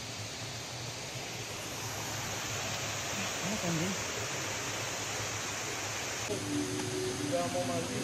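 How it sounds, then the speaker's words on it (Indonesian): A waterfall pours with a steady, broad rushing hiss at moderate distance, with faint voices briefly audible over it. "menikmati pemandangan yang ada di air terjun ini ya"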